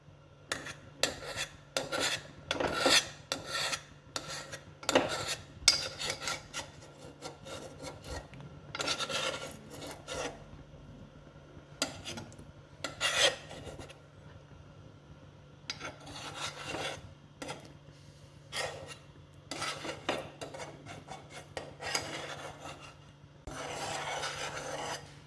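Gelatin is being mashed in a bowl while culture media is prepared. Quiet, repeated scraping and rubbing strokes come in irregular bursts with short pauses between them, close by and with no talking.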